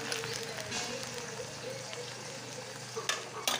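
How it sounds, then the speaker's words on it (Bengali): Onions, nigella seeds and tea leaves frying in oil for a curry-leaf hair oil: a quiet, even crackling sizzle held close throughout, with a couple of brief louder pops or stirs near the end and no speech. "এবার কালো জিরে আর চা পাতা দিয়ে দিতে হবে, দিয়ে এবার ভালো মতন করে এগুলোকে"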